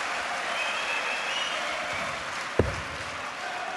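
A darts crowd applauds steadily in a hall, a sustained mid-level wash of clapping with one sharp knock partway through and no talk.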